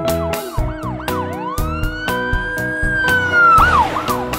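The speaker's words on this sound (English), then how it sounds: "I hear a police car." A police siren wails and yelps up close, sweeping up and down in pitch, with rhythmic honking pulses underneath and a rising whoop near the end.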